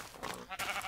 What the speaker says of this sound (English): This entire world is populated by sheep?